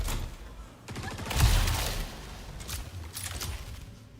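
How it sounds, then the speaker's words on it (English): Rapid rifle bursts in the space game Star Citizen, a loud cluster of repeated shots near the start followed by scattered quieter reports, with faint background voices. "I am liking this rifle."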